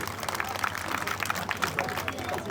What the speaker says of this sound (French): tous vos applaudissements pour mon ami Archibald